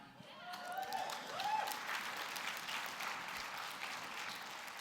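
A convention audience breaks into applause, a dense wash of clapping and crowd noise filling a large hall, with a brief voice or cheer rising near the start.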